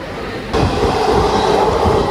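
Loud, continuous rumble and rush of another train overtaking, heard from inside a moving coach of the Circar Express, swelling suddenly after a moment and staying steady and close.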